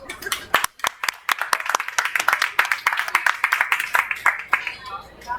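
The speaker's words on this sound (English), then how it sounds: "How about a nice round of applause?" A small gathering at a florist's after-hours event claps for the hosts, distinct close handclaps forming a loose, uneven round of applause that thins out at the end.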